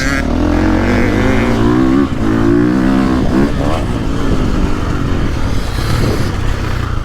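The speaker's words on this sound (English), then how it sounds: "the engine's definitely got a little more lived up power band, especially low to mid, and it still pulls and pulls" A 2022.5 Gas Gas or 2023.5 KTM 450 Factory Edition dirt bike engine pulls hard through its low-to-mid power band, a loud, close, continuous rising rev with shifting pitch sweeps, while someone talks over it.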